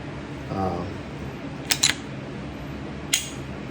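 A Canik Mete SFX 9mm pistol's trigger breaks and resets with a few sharp, close mechanical clicks, a quick pair followed by a single click, under soft room noise and quiet speech.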